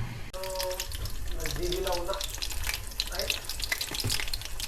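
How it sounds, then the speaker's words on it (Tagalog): Spring rolls frying in hot oil give a steady crackling sizzle close by, with stirring clatter and a brief run of tap water at the start. "nagluluto na ako ng ulit ng spring roll"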